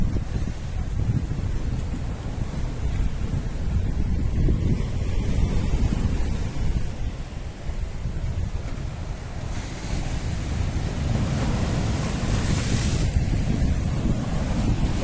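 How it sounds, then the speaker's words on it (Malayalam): Sea waves break against rocks at Ezara beach in Kannur, Kerala, as a continuous, loud churning roar of surf mixed with heavy wind buffeting the microphone. "പാറക്കെട്ടിലേക്ക് വെള്ളം ഇങ്ങനെ അടിക്കുക."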